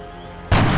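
Soldier's headshot gunfire in X-COM: Enemy Within, one sudden loud booming shot that cuts in abruptly after a quiet ambient lull and rings on to the end.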